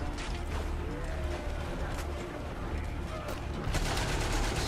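A German machine gun emplacement rattles in the Valiant Hearts World War I game, bursts of rapid fire with mechanical clatter under background battle noise and some voice.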